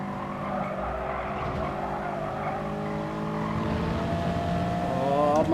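Race car in Gran Turismo Sport during an FIA Gr.4 race at Sainte-Croix, engine droning steadily with tire skid and squeal as a rival spins, rising in intensity toward the end.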